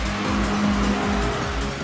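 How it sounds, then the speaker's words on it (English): A car drifting, its tires squealing loudly and continuously alongside a steady engine drone for about two seconds, with no talking. "Drifting."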